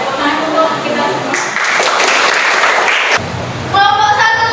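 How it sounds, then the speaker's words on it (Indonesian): Applause in a classroom as a group presentation ends, a dense broadband clatter of many hands through the middle, with voices talking before and after. "Tepuk tangan untuk kita semua."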